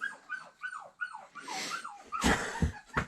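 A frightened dog whimpering and whining in a run of high, falling cries, close and fairly loud, followed by heavier thumps and shuffling noise near the end.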